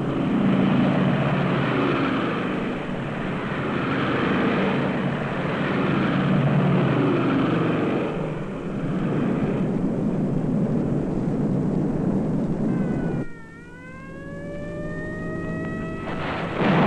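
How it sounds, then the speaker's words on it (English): British heavy bombers flying in August 1943, a dense, steady propeller-engine drone filling the air for about thirteen seconds, then the sound shifts to a thinner, rising tone. "300 British heavy bombers took to the air."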